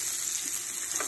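Potatoes frying in a crowded pan during one-pan weeknight cooking, a steady loud sizzle with bright hiss throughout.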